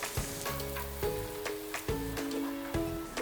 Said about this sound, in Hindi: दोस्तों अब इसे अच्छी तरह से मिक्स करके फ्राई कर लेंगे।